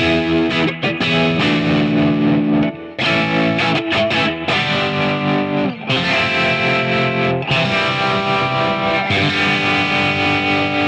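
A heavily distorted electric guitar, its distortion coming from inside the amp, plays sustained chords and riffs, loud and thick, with brief pauses between phrases.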